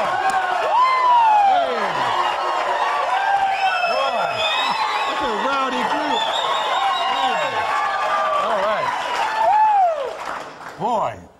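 A rowdy studio audience at the cooking show At Home on the Range cheers, whoops and applauds in a loud, continuous burst that fades near the end, with shouting voices mixed through the clapping.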